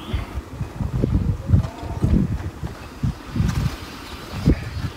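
Gusty wind buffets an outdoor camp stove that is hard to light and nearly blown out, with uneven low rumbling bursts of wind against the microphone throughout and no talking.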